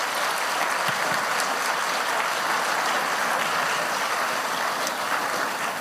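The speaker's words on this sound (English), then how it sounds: "If you can give them a round of applause." Sustained applause from a live audience honoring the panelists at a mayoral debate, a dense steady wash of clapping that holds at full volume throughout with no talking over it.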